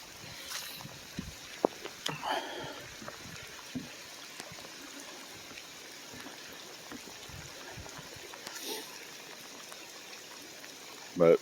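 Swollen creek floodwater rushes and gushes steadily beneath a bridge after heavy rain, a continuous moderate outdoor wash with scattered small splashes and knocks, and a brief louder bump at the very end.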